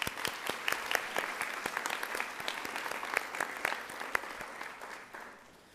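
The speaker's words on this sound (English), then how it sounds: "Give yourself and your peers a round of applause for these amazing results." Students at a senior school assembly at a girls' grammar school break into applause, a dense burst of many clapping hands that fades out toward the end, no voices over it.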